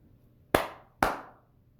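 Two sharp, crisp hand claps about half a second apart, close and clear against a quiet background.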